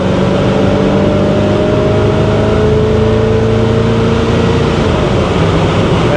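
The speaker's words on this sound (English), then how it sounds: "Pulls the car down the road really nice." Engine of a 1964 Chevrolet Impala with a 700R transmission pulling steadily down the road at speed, a continuous loud drone with rising tonal whine and road roar throughout, no talking.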